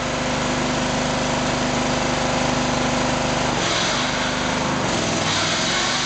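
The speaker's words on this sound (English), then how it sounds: "Still putting it under load, running all the reels down." A Toro 3100 reel mower engine runs steadily under load with all reels down, loud and continuous with a droning hum, the pitch dipping briefly midway as the load shifts.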